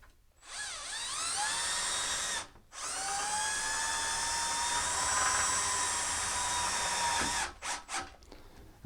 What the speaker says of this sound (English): they're using a self-tapping or self-drilling screw